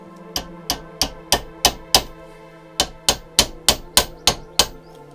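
A hammer taps a medieval longbow arrowhead socket onto a wooden arrow shaft in a run of about thirteen sharp, ringing metallic strikes, six, then a brief pause, then seven more, close and loud.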